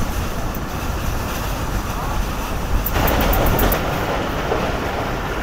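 The Karakoram Express runs on its rails in a steady, loud rumble of wheels and carriage noise heard from inside the old coaches, with a few sharp metallic clicks partway through.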